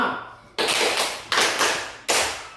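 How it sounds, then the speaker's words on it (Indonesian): A group of people clap together in unison, making three loud, sharp bursts about three-quarters of a second apart, each one ringing out and fading before the next. "Yang menjawab kita tepuk 5."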